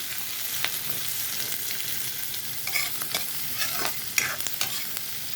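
Chopped onion fries in a pan while being stirred, a soft ongoing sizzle broken by scraping stir strokes.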